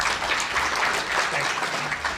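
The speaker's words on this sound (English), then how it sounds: "everybody give him a round of applause for a very special man." Audience at a talk in Toronto applauding the speaker just introduced, a steady, fairly loud burst of clapping with no voices over it.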